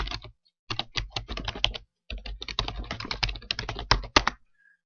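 Quick bursts of keystrokes on a computer keyboard, with a short pause midway, enter a file name into a spreadsheet; the tapping is close, steady and alone.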